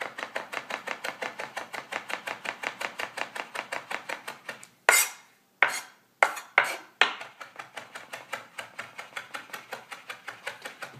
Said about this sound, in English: And then just a nice little chop.